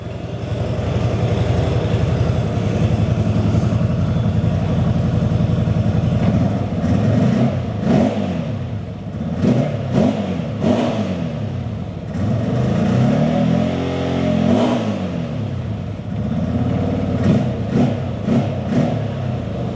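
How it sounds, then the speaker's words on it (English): A Kawasaki ZFORCE 950 UTV's engine idles with a deep, throaty chambered GGB exhaust, then revs up several times in sharp bursts before settling back down. "Let's give it a little rev."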